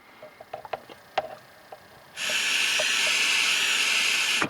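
Air blown through a hose connected to a carburetor, a sudden continuous loud hiss that starts midway and holds steady, following a few faint clicks and taps.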